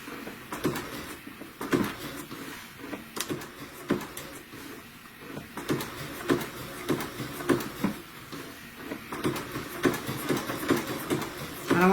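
Sewing machine stitching an applique on a Christmas stocking, a faint run of quick mechanical needle clicks and whirring in short bursts with small pauses between them, heard close up in a quiet room.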